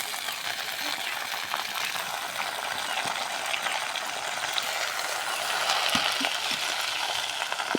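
Jute leaves fry in a hot pan with a steady, close sizzling hiss that continues throughout, broken by a few soft clinks and stirring knocks.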